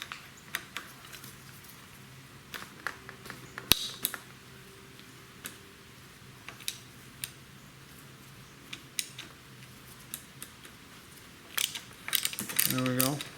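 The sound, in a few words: loosening Harley front fork lower bolt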